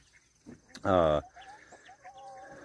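A chicken lets out one loud, drawn-out squawk, surrounded by softer scattered clucks and chirps nearby.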